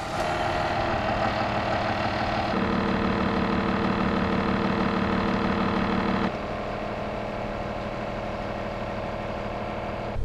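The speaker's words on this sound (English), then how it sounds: "If you hear that rumble, it's the 340 horsepower Cummins diesel we got running right now." A 340-horsepower Cummins diesel engine idling in a Jayco Seneca Super C motorhome on a Freightliner chassis, a steady close rumble with an even hum that shifts pitch slightly midway.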